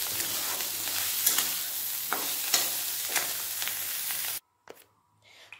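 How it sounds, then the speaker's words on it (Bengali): Shrimp fry in a wok with a loud, steady sizzle and several sharp scraping strokes of a stirring utensil, then the sound cuts off abruptly and a faint clatter follows. "এই দেখুন চিংড়ি মাছ ভাজা হয়ে গেছে"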